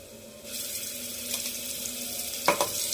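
Prawns, Bombay duck or masala frying in hot oil in a pan, a broad steady sizzle that starts abruptly and holds, with a brief louder crackle and spatter near the end, close up and without speech.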